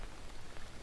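Rainy-season rain falls in a jungle in the survival game Green Hell, a soft, even patter of drops on surfaces heard alone at low volume.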